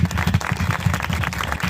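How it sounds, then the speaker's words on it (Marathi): Applause from an audience at a Marathi public gathering, honouring the sound-system crew; rapid, dense clapping with strong low thumps, steady and fairly loud throughout. "टाळ्या वाजवा त्यांच्याकडे."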